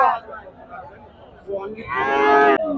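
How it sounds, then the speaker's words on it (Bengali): A white dairy cow at a cattle market gives a loud, drawn-out moo near the end, after a shorter low call, with faint voices and bustle around it. "দেখেন আমরা সুন্দর একটা সাদা গরু দেখাচ্ছি"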